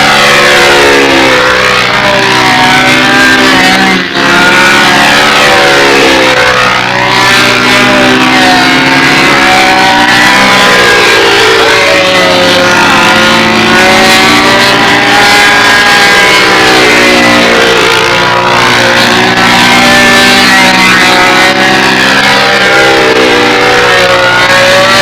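Four-stroke engines on control line stunt model airplanes drone steadily as the planes fly at a national championship meet outdoors on a windy day. The loud, continuous buzz rises and falls in pitch as the planes circle, with no voices.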